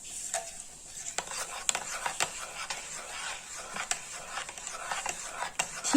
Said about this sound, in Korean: 흘지 않게 조심해서 잘 섞어서 저어주신 다음에